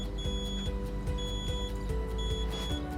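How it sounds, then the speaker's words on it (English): A boat safety wristband fob chirps as it pairs, thin electronic beeps repeating in a regular pattern over a low background hum, close and clear. "So you get a double beep, and you are paired."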